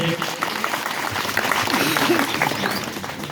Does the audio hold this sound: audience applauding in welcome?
yes